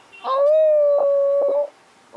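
A person imitates a dog's howl, a single sustained rising-then-steady wail lasting over a second, followed by a short breath.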